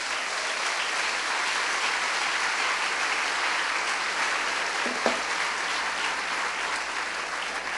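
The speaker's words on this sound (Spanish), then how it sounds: "Dele un aplauso al Señor" A church congregation applauds steadily and evenly throughout, a dense sustained clapping with no break.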